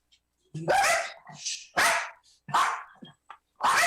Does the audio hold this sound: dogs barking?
yes